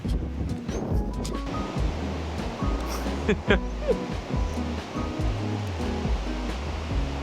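Ocean surf rolls onto a beach along the Great Ocean Road in Australia, a broad, steady wash roughened by gusts of wind against the microphone. Faint, muffled voices come and go underneath.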